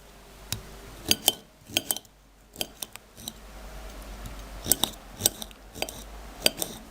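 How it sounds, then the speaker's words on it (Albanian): A knife cuts a sweet tomato into slices for a broccoli salad, making a run of sharp, close taps and clicks in uneven bursts against a cutting surface. "Presim edhe domate në feta"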